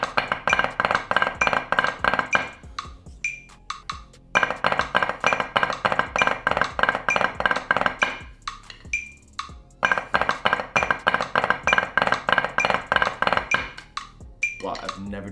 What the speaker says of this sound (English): you can also do it with inverted flam taps